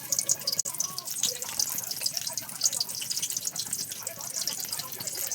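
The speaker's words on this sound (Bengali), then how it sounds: "বড়াটা ভালো করে হাত দিয়ে চিপে জলগুলোকে বের করে নিতে হবে" Water dripping and trickling as soaked lentil fritters are squeezed by hand in a kitchen, faint irregular drips and splashes close by.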